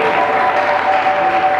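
A church congregation claps together in a steady, dense wash of applause, loud and close, continuing without a break.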